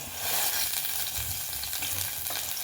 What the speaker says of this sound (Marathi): आपण ह्याच्यात तेल टाकणार आहोत